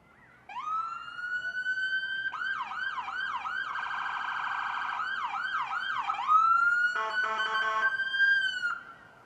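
Emergency siren on the Gladstone Fire 2016 Ford Utility Interceptor SUV cycling through tones: a rising wail, rapid yelps, a fast warble, then a harsh pulsing tone, loud and close with no talk.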